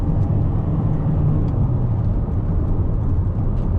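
Toyota Corolla Cross Hybrid pulling away after a U-turn, a steady low engine-and-road drone heard from inside the cabin, continuous and even with no talking.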